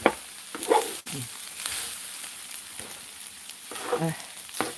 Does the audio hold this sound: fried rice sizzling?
yes